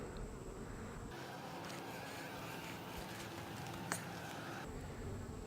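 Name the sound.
honeybees buzzing in a hive during inspection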